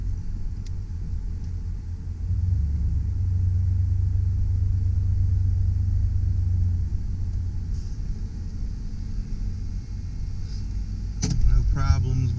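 A 1992 Ford E150 Econoline van pulls off on a test drive, its engine building into a steady low rumble heard from inside the cabin, with a brief clunk near the end.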